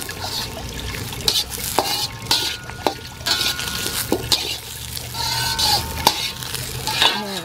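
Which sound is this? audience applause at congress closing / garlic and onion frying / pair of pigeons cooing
garlic and onion frying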